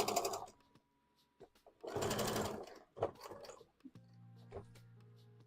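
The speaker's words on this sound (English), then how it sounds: "And then I'm gonna sew up my Sylveon bows, which won't take long at all." Home sewing machine stitching Pokémon Sylveon cosplay bows in short, quiet bursts separated by pauses, then a low steady hum toward the end.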